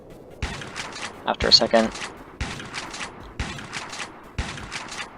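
A video-game shotgun fires winged-heart projectiles that corrupt and explode on enemies, giving repeated sharp bursts in quick clusters, one louder volley in the middle, while someone talks over the shots.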